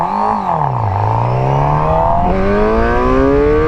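A Suzuki GSX-R 750 motorcycle accelerates hard in first gear, its engine note climbing steadily in pitch, dipping briefly twice and surging again, loud, close and continuous with no talking.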